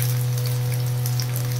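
Onions and capsicum sizzle steadily in hot white oil in a pan for pasta, a close, continuous crackling fry with no talk.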